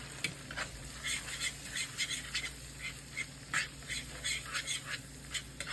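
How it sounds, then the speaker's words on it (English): Garlic cooks in melting butter in a pan, a soft, steady sizzle and crackle heard close up with a low hum beneath and no talking. "you're just going to continue to melt that butter"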